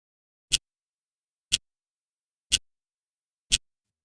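A Pomodoro timer app on a Mac ticks four times, each tick crisp and evenly spaced about a second apart, quiet and alone with silence between.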